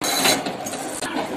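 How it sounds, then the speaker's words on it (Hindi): A pedal-driven multipurpose farm machine turns with a close, continuous whirring and ratcheting mechanical rattle, briefly interrupted near the end. "पैडल लगाने से घूमता है"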